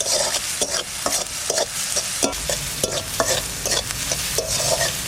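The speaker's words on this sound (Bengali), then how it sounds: "ভাজা ভাজা করে নেব পেঁয়াজটা" Chopped onion fries in hot oil in a pan, giving a continuous close sizzle with frequent clattering stirs and scrapes of a utensil against the metal.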